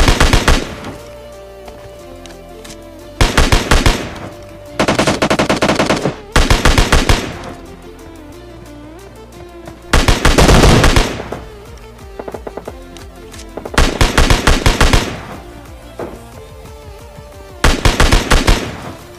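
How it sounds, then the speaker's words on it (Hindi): Loud bursts of automatic gunfire in PUBG Mobile Lite, several separate volleys with short gaps between them, close and sharp against a quiet background. "पीछे से भी गन फायर आ रहा होता है"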